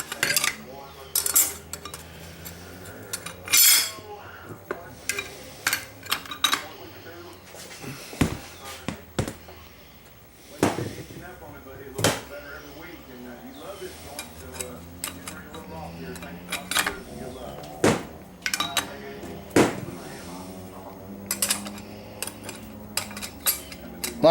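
Metal clutch plates and steels for a TH400 automatic transmission being handled and stacked, sharp clinks and rattling clacks in irregular bursts, with occasional talk in between.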